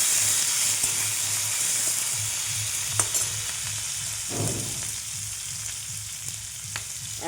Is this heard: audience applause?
no